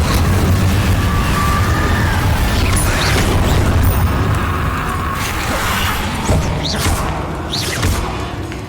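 An Incendio fire spell cast in Hogwarts Legacy, its loud burst of whooshing flame and crackling impacts mixed with mechanical clanks and thuds, followed by more bursts of magic near the end.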